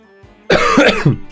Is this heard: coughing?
yes